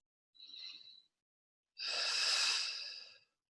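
Two slow, relaxed breaths close to the mic during a calm guided relaxation, a short soft inhale followed by a longer, fuller exhale, with silence between them.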